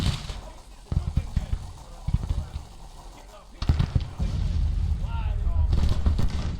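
Distant artillery booms and scattered gunfire rumble through a Civil War battle in the strategy game Grand Tactician: The Civil War, with irregular thuds building into a denser roar while someone talks over it.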